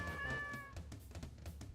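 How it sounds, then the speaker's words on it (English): A cat in Deltarune Chapter 4 gives a clear, close meow followed by a few softer, shorter mews and light taps, with no voices over it. "Go over there and pet the kitty."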